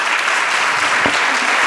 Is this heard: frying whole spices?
no